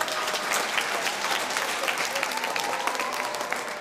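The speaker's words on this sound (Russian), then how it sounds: "бурными овациями известного гроссмейстера встречают и в актовом зале" Enthusiastic applause from a school audience in an assembly hall greets a visiting chess grandmaster, a dense, steady clapping that holds for several seconds, close and loud.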